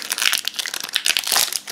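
Foil wrapper of a Minions trading card booster pack being torn and crinkled open by hand, a continuous close, bright rustling and crackling for nearly two seconds with no talk.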